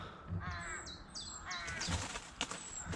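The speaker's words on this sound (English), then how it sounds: "Proper noisy crows up there." Noisy crows cawing overhead beside the Chesterfield Canal at Drakeholes, several harsh repeated caws from a few birds at moderate distance over faint outdoor background.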